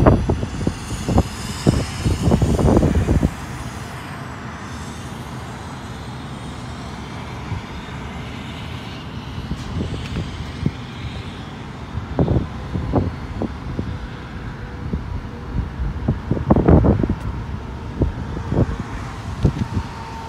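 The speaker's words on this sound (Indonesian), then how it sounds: "Ini banyak sekali truk-truk di sini." Trucks rolling past one after another on a road, rumbling bursts rising and falling over steady wind and traffic noise, some passing close and loud, no talk.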